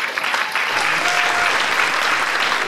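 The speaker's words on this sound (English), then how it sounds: "let's give her a big round of applause and invite her out" Dense, steady applause fills an indoor hall at the Wall Of Stars 2015 event as a speaker is welcomed, sustained and loud throughout.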